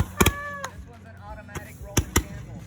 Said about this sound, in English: Liam, these are our birthday fireworks.